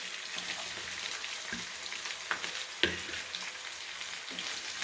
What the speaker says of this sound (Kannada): ಈರುಳ್ಳಿನ ಚೆನ್ನಾಗಿ ಫ್ರೈ ಮಾಡ್ಕೊತಾ ಇದ್ದೀನಿ